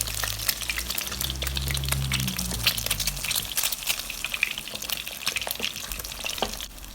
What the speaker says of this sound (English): When oil is hot, add egg to fry.